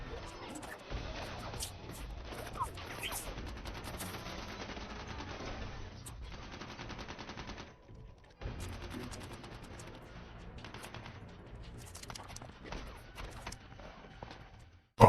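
Rapid bursts of gunfire in dense, continuous volleys, with a brief break partway through before the shooting resumes.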